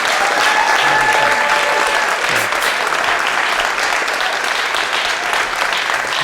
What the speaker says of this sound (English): could we have a little applause for that?